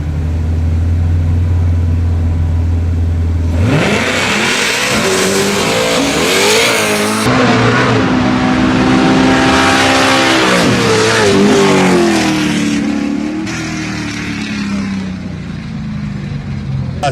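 A Dodge Hellcat and a Chevrolet S10 sit idling, then launch hard down a drag strip at an H-Town Throw Down race. Engines scream through rising revs for about ten seconds before easing off, very loud and close.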